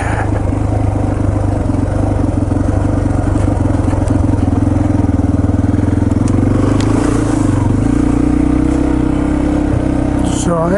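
A Yamaha TT-R230 dirt bike engine idling and puttering on a forest trail at Windrock Park, loud and close, a continuous rough mid-pitched drone with slight revving changes throughout.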